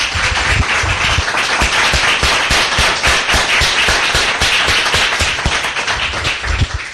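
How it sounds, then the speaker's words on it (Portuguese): A church congregation breaks into a long, loud round of applause, dense overlapping hand claps with sharp individual slaps standing out, sustained steadily throughout without voices. "Vamos dar uma salva de palmas para nosso Deus."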